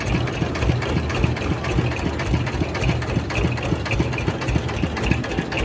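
A tractor engine idles steadily nearby on a road in Amritsar, India, a low chugging rumble with a regular beat that carries on without a break.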